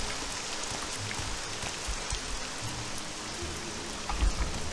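Rain falling in a video game, a steady close patter of drops on surfaces with a few heavier low rumbles toward the end.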